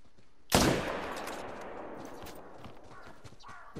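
A single .300 Magnum rifle shot fired at a bison during a hunting video game, a sharp loud crack followed by a long rolling echo that fades slowly over several seconds.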